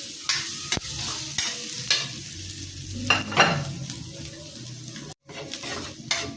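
Carrots, white onion and garlic sauté in a hot pan for noodle soup, a steady close sizzle broken by repeated scrapes and stirs of a utensil against the pan, with no voices.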